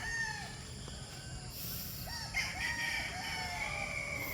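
Chickens cluck and a rooster crows at a distance on a poultry farm over steady outdoor background noise, with calls scattered across the few seconds.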